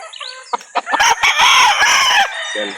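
Gamecocks at a rooster sale in Calauan, Laguna crow loudly and close, one long crow dominating the middle amid short clucks and brief calls before and after.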